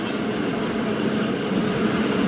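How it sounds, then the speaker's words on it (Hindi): The Thal Express train rumbles along after a short station stop, a close, steady rolling drone with faint rhythmic wheel clatter throughout. "मुख्तसर से क़याम के बाद गाड़ी रवाना हुई"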